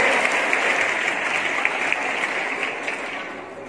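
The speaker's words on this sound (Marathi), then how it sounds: "याच्यासाठी टाळ्या वाजवा." An audience claps for a group after its score is announced, a dense steady round of applause that tapers slightly toward the end, with no speech over it.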